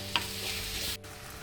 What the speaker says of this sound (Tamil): இப்போ இந்த வெங்காயமும் இஞ்சி நல்லா வதங்கிட்டு இருக்கப்ப ஒரு 2 தடவை நம்ம குலுக்கி விடுறோம்.